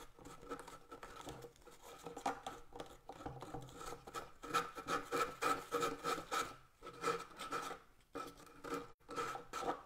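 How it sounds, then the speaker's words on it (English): Sandpaper rubs gently along the edge of a wooden crate in soft, repeated rasping strokes, close and quiet, with short pauses between passes. "So I'm just grabbing the sandpaper, and you just go really gently along the edge there"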